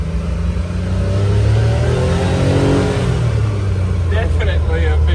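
A CFMOTO U10 Pro UTV on big tires, fitted with a Highland Mud & Trail clutch kit, accelerates in high gear. The engine drone rises steadily and stays loud throughout, with people talking near the end.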